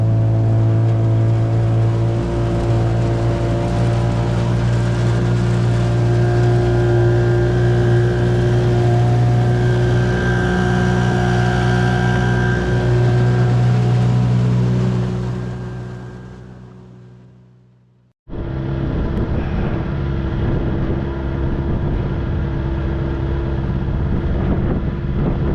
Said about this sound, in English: We're taking the boat out for a test run.